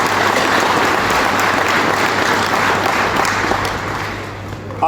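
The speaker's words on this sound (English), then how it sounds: "I'd love a round of applause for the volunteers who make this happen as well" A large audience applauds volunteers at a sponsored event, a dense, steady wash of clapping that holds loud for about five seconds before easing slightly at the end.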